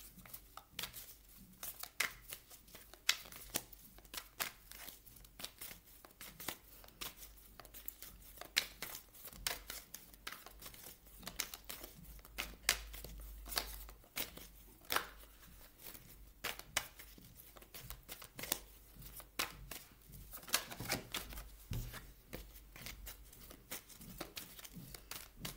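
Tarot cards are shuffled close by in a steady crisp riffle and slide that crackles on and off, quiet and unbroken, with no voices.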